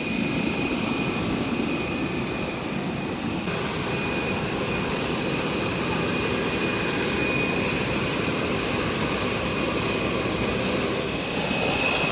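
Steady, loud jet engine roar fills the economy cabin of a four-year-old Tigerair Airbus A320-200, a constant broadband drone with faint tonal whine holding throughout without talk.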